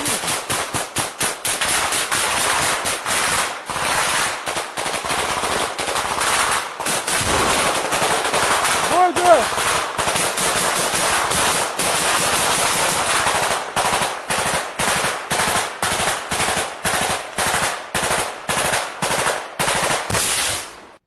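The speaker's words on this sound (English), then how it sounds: "Ukrainian soldiers throw grenades and keep firing at Russian trenches from different flanks." Combat gunfire aimed at Russian trenches, with loud near bursts of rapid machine-gun fire and single shots repeating continuously, barely pausing throughout.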